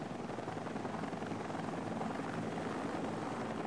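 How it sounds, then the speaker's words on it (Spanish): A Russian K-50 helicopter in Sniper Ghost Warrior flies overhead with a continuous, even rotor roar and broadband engine whine, steady and loud for the whole stretch with no voices. "Me encanta ese helicóptero"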